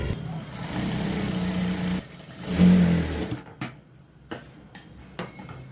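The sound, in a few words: sewing machine stitching a straight seam on blouse cloth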